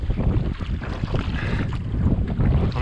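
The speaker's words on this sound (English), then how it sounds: "The wind picked up." Strong wind roars continuously on Puget Sound while kayaking near the shore, buffeting the microphone with a loud, rushing low rumble and a hint of water nearby.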